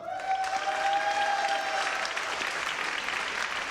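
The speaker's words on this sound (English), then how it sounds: "I think that's the biggest cheer yet" A crowd at a 2006 University of Manchester graduation ceremony applauds steadily for several seconds, a dense, even patter of many hands clapping without a break.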